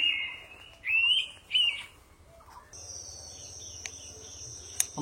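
Indian pitta calling in a hot forest from dense undergrowth: a few clear whistled notes in the first two seconds, then a steady high insect drone fills the rest with faint occasional chirps.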